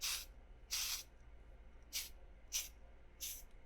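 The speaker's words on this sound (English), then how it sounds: "We're going to give him a quick spray." Five short hissing bursts from an aerosol can of matte finish spray onto a figure, irregularly spaced, close and fairly loud against a quiet background.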